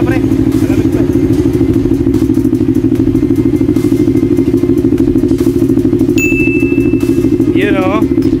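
A cold 500cc big bike engine warming up at idle, a steady loud rumble throughout with a brief higher mechanical whine near the end, close to the mic.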